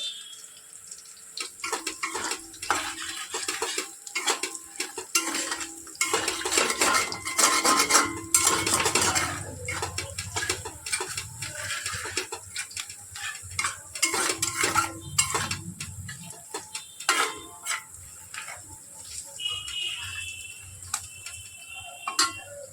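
Kashmiri chili powder stirred into hot oil in a pan while preparing mutton biryani, with frequent clinks and scrapes of a spoon against the pot over a low frying hiss, steady and close with no talking.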